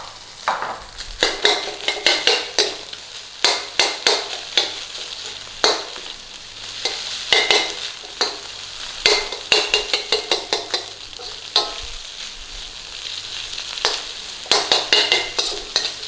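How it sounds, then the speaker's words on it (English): Leftover pre-cooked rice is stir-fried in a pan for pineapple shrimp fried rice, a low sizzle broken by frequent sharp scrapes and clacks of a utensil against the pan, close and uneven, with no voices. "So in with our rice. Give that a bit of a breaking up in there."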